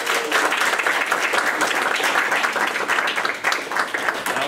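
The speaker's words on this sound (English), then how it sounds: "So big round of applause for." Audience at a demo day bursts into sustained applause, dense steady clapping from a crowd filling the room throughout.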